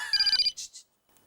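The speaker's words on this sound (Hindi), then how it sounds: "अब तुम्हारे भी बॉस का फोन है?" A mobile phone ringtone plays a short burst of bright electronic tones, loud and close, then two softer beeps before it cuts to near silence.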